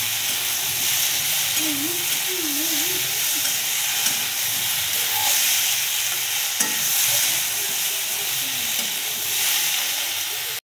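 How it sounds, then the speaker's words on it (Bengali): Potato, brinjal and tomato frying in oil for a cabbage ghonto, a steady loud hiss and sizzle with occasional stirring, continuous and close, with a faint voice in the background. "এগুলোকে ভালো করে সব ভেজে নেব তেলের সঙ্গে"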